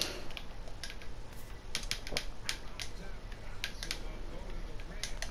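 Keys clatter on a computer keyboard while a player name is entered for MLB The Show 16, with irregular faint clicks over steady background hiss.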